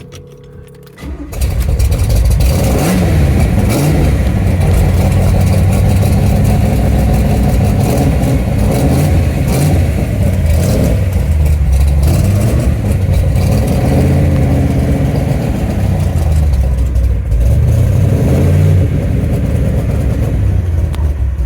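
A modified 1969 Corvette with a 427, 435 hp engine rumbles loudly after a quiet first second, then runs continuously with rising and falling revs as it drives, close up and without talk.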